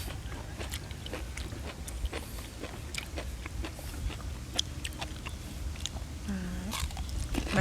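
Crunchy bites and chewing on grilled marinated pork stomach, close up and repeated in a steady irregular rhythm, with no talk over it.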